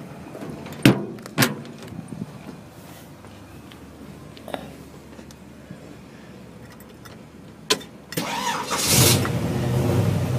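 Keys jangle and a door clunks around a lowered 1950 Chevrolet 3100 pickup, then the engine cranks, catches and settles into a steady idle near the end.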